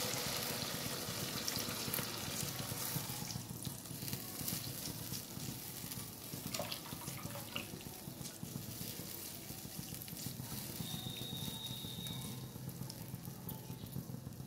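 Chhana whey water poured into a pan of frying paneer masala, a steady close hiss and watery splashing of liquid hitting hot oil and spices, continuous throughout without talk.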